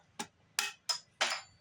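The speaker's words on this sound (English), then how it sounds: "get a big old screwdriver and a hammer." A hammer strikes a big screwdriver set against a plastic semi-hollow guitar body four times in quick succession, each a sharp, close, clacking knock.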